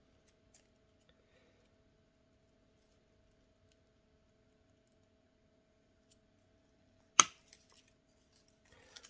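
A single sharp snip of scissors cutting through an air-layered ficus branch, close and crisp, in an otherwise quiet room with a couple of faint ticks afterward.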